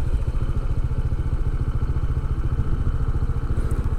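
A motorcycle ridden along a road near the new Manila International Airport in Bulacan, its engine loud and close with a rapid, even pulsing throb and a rattling clatter.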